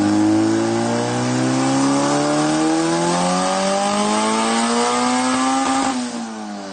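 A turbocharged car making about 350 horsepower at 15–16 psi boost revs hard on a dyno during a pull. The engine note climbs steadily for several seconds, then breaks off sharply near the end and starts to drop away. It is loud and close, with no voices.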